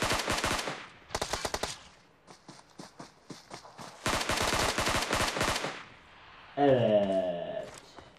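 Gunfire in the mobile battle royale game PUBG Mobile: several rapid automatic bursts and scattered single shots, with quiet gaps between them and a ringing metallic sound near the end.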